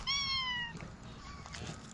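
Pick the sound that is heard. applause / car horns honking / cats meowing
cats meowing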